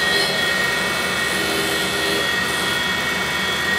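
Deckel SO tool and cutter grinder with its wheel sharpening a single lip cutter, a steady high whine and continuous grinding hiss in a workshop, close and constant with no talk.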